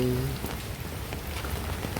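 Heavy rain falls on Loy Krathong day in Chonburi, a dense, continuous hiss of drops hitting surfaces with a brief low voice-like tone at the start.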